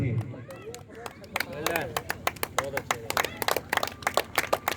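Scattered hand claps from the audience at a cricket tournament final's prize distribution ceremony, sharp and uneven, with a man's speech-like voices running underneath.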